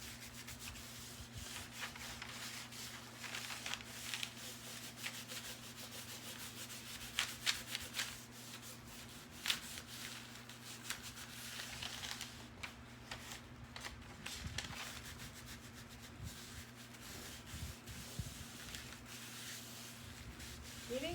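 Hands rub and smooth material down into a crease while refinishing an 1980s hall tree, a steady close soft brushing and rustling with a few sharper scuffs, continuous with no talk.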